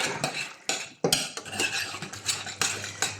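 Spoon scraping and clattering through a chicken tikka masala curry in a pan, repeated close stirring strokes with a faint sizzle underneath.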